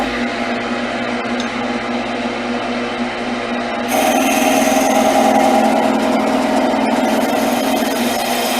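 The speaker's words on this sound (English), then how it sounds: "now we can make a test cut, and wherever the tool is rubbing on the wood" Lathe turning a spinning wood spindle while a tool makes a test cut, giving a steady, loud machine whir that grows brighter and louder halfway through as the cut engages, with no talking.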